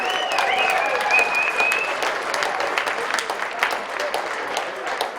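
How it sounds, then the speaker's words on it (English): Crowd applause for a rider named Charlie at a polo match, a dense steady patter of many hands lasting several seconds, with a whistle-like tone early on and faint voices mixed in. "Give Charlie a round of applause"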